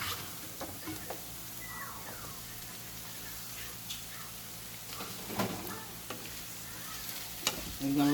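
Andouille sausage and vegetables fry in a pan with a soft, steady sizzle, broken by occasional stirring scrapes and clinks, quiet and close, with no voices.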